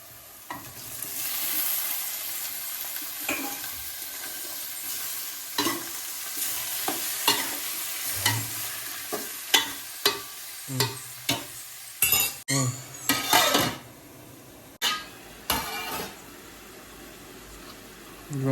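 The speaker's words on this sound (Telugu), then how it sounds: "ఉల్లిపాయలు బాగా వేగినాక తర్వాత నెక్స్ట్ అయితే మనం టమాటాలు అయితే వేసుకోవాలి" Onions and tomatoes frying in a pan for a dried fish curry, with a steady sizzle broken by repeated scraping stirs and clinks of a spoon against the pan, close up and with no voices.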